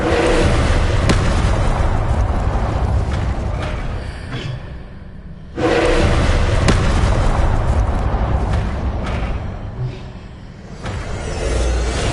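Incendio fire spells are cast in Hogwarts Legacy, loud booming bursts that whoosh and roar continuously, with two big blasts about five seconds apart and a brief dip between them.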